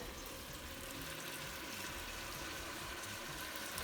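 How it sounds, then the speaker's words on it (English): Hot water is poured into a pot of vegan cabbage soup, making a steady, soft, continuous wash of running liquid that stays even from start to finish with no voices. "We're going to add some water."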